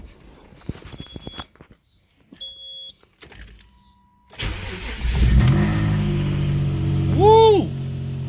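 A VQ-engined Nissan Sentra runs on a jump pack. First come clicks and beeping chimes, then the engine cranks and catches, settling into a loud idle before a sharp rising and falling rev. Voices are faint.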